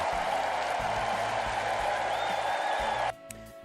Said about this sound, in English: A big round of applause for Boken.